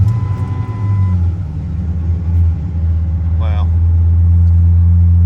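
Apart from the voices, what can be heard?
car engine cold start and running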